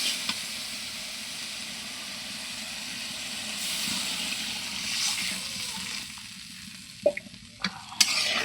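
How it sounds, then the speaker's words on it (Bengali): Broth poured into a pan of sizzling shrimp and gourd-leaf curry, a steady close hiss of frying with stirring throughout, then the sizzle drops away near the end, leaving a few sharp clinks and splashes. "কষানো হয়ে গেছে, এখন আমি ঝোল দিয়ে দেব।"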